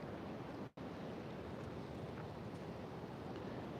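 Steady ocean surf on a San Diego oceanfront, a continuous broad wash of waves and wind rumble with no distinct breaks, heard alone and moderately loud apart from a momentary dropout.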